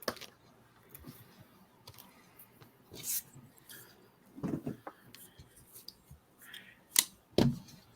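Computer keyboard clicking right beside a microphone during an online Halloween quiz show, heard as scattered sharp clicks and taps at close range, with faint murmuring in the background.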